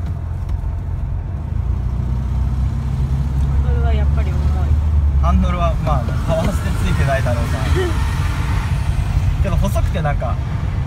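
Air-cooled Volkswagen Beetle Type 1 with Sportomatic transmission pulling away in first gear, a steady low engine drone heard from inside the cabin, with people talking over it throughout.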